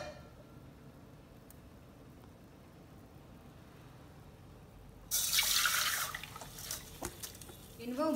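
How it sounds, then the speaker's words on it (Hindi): Water pouring from a tap over quinoa in a kitchen to rinse it, a loud splashing burst arriving after quieter room sound, with a few drips near the end. "अब मैं इसमें एक बार और पानी डाल रही हूँ"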